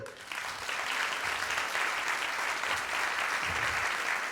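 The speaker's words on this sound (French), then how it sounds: "On peut peut-être les applaudir." An audience at the close of a conference on anxious school withdrawal breaks into steady applause, many hands clapping evenly in a large room at moderate volume without any speech.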